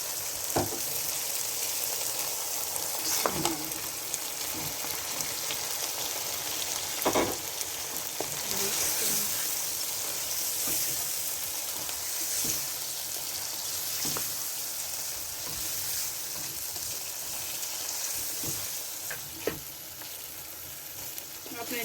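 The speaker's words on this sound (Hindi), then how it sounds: "अब इसमें मैं गोश्त डाल दूँगी" Mutton pieces sizzle and fry in a butter-separated masala for gosht karahi, a steady loud crackle with occasional stirring scrapes and bursts of spattering throughout.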